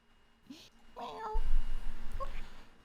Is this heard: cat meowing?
yes